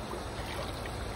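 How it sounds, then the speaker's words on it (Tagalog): Strong river current rushing past during night net casting, a steady, close wash of flowing water that fills the whole brief moment with no voices. "Ang lakas kasi ng agos eh."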